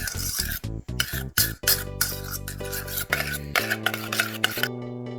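Raw burger meat is mixed by hand, making a quick series of wet, rhythmic squishing pulses up close, followed by sustained tonal music.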